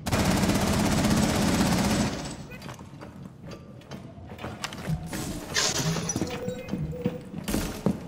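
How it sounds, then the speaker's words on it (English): Gunfire in Rainbow Six Siege, a loud dense burst of automatic shooting that gives way to scattered clicks, impacts and mechanical rattles, with voices talking over the action. "Somebody is shooting."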